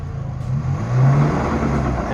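A Honda CRX with a broken axle revving as it tries to drive up into a trailer: a close, rough engine drone rising briefly in pitch and then easing back.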